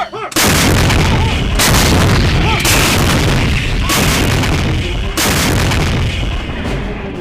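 Artillery shells pound a large enemy base under sustained bombardment, a loud, nearly unbroken barrage of heavy booms and rumbling blasts rolling one into another for the whole stretch, with no talk.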